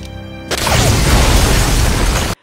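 A sudden loud explosion bursts in a film scene as lights are switched on, a broad roaring blast that follows a brief quieter moment and rumbles on steadily for about two seconds before cutting off.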